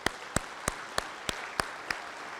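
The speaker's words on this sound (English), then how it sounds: "we got to give them a round of applause for that" Slow, evenly spaced claps, about seven sharp hits, stand out over a soft crowd murmur as an awards dinner audience applauds Classic Instruments.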